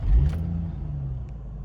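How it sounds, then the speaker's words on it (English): An Infiniti G35 with a newly replaced throttle body starts with a brief loud catch, then settles into a steady, low engine idle close by, with no talking. "Now you can turn the car on."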